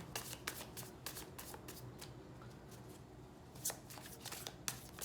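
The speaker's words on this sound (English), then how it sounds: "Okay, last shuffle, and then I take from the top, middle, and bottom." Tarot cards are shuffled by hand in a quick, steady run of soft riffling and flicking, close and quiet, with no voices.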